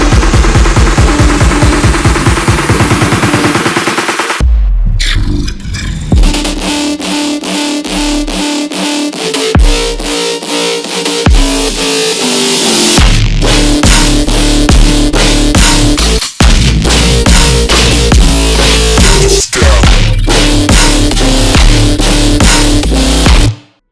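A Serum synth bass lead drives an electronic drop, opening with a rising buzzy build, then pounding heavy bass hits, punchy drums and gritty lead stabs in a loud, continuous, rhythmic section.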